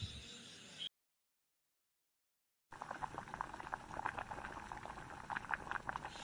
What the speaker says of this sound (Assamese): এইখিনি 10 মিনিটমান ঢাকনখন লগাই উতলিবলৈ দিম।